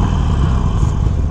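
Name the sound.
Harley Davidson Iron 883 motorcycle engine with stock exhaust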